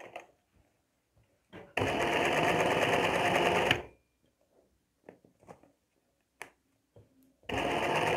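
An embroidery sewing machine runs in two loud, close bursts of fast stitching, separated by a quiet stretch of faint clicks and handling noises.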